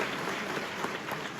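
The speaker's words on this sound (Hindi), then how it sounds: "आपकी तालियों का क्रम अगर बनता रहे तो सम्मान और बढ़ जाएगा" Steady clapping from an audience at a public event honoring a school teacher, a dense, continuous wash of hand claps at moderate level without audible speech.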